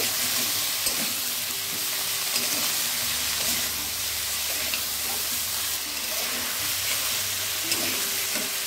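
Yardlong beans and potatoes fry in a pan with turmeric and salt, giving off a continuous close sizzle and hiss, with scattered soft stirring knocks and a low hum underneath, no voices.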